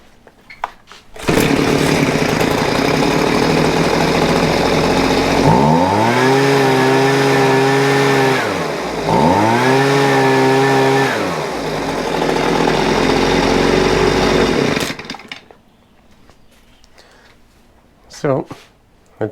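A Husqvarna 125BV leaf blower engine that had trouble starting roars after new fuel lines are fitted. It is loud and close, revving up twice in rising and falling swells for about fourteen seconds before cutting off abruptly.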